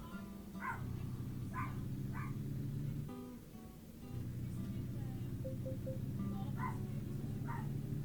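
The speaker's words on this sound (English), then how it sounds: "Dog's barking for some reason." A dog barks in short bursts somewhere in a house while a truck simulator game's engine drones steadily underneath, the barks sharp but moderately distant, a couple of clusters spread over several seconds.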